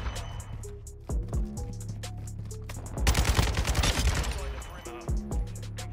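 An RPK light machine gun fires in Modern Warfare 2, with sharp single shots early on and then a dense sustained burst of rapid automatic fire in the middle, among game sound effects.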